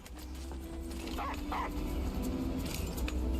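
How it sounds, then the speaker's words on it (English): A dog barks in the video game Stellar Blade, several short yips and barks in the middle distance over a steady droning game ambience and music bed. "Did I just hear a dog?"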